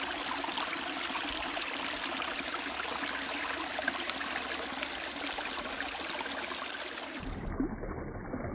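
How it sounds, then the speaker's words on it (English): A quiet babbling brook at Bemis Falls, a steady soft rush and trickle of water heard alone and close throughout, ending in a brief muffled shift near the end. "Bemis Falls here in the background is a really quiet, quaint, babbling brook type sound today."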